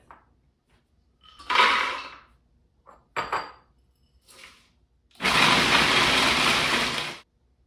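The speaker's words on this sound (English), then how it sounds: "All we need to do is blend down our oats and our nuts to start with." Kitchen blender grinding oats and nuts, heard as a few short bursts and clatters, then a loud sustained whir of about two seconds before it cuts off, close and alone.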